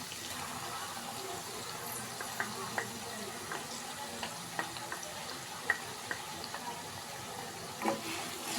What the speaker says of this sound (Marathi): हे पण थोडीशी फ्राय करून घेऊया चांगलं तेल सुटोपर्यंत